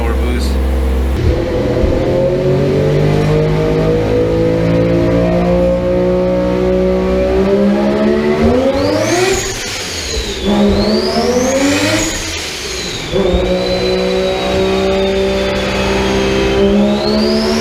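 Mazda 20B rotary engine on a dyno during a boosted tuning pull, loud and close: a sustained rising rev with brief lifts and surges near the end, building again toward the finish.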